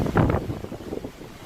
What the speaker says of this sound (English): every once in a while we're getting some pretty strong gusts of wind